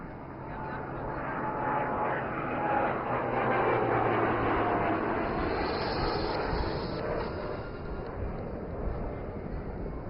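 A modified military aircraft fitted with maritime patrol radar flies past at the Aero India air show in Yelahanka, giving a continuous loud engine roar that swells and holds, with a commentator talking over it.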